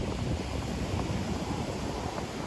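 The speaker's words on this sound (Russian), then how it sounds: "Ветер сегодня не очень сильный" Wind buffets the microphone on a beach in the Outer Banks, North Carolina, a steady, loud, broadband rush with a faint surf wash beneath, continuous and without speech.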